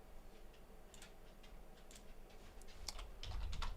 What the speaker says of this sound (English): I'm over here typing it in the chat instead of creating a poll